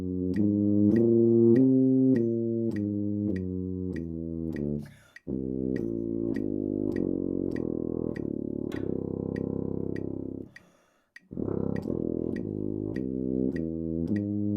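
A brass instrument plays a whole tone scale starting from low C, a run of evenly spaced sustained notes with short breaks between phrases, alone and close, with a faint metronome ticking behind.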